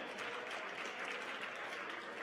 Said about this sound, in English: big round of applause, the General Manager of Personnel for Florida State Football, DARRICK Ray